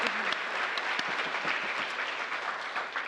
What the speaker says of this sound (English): give them both a round of applause right here, right now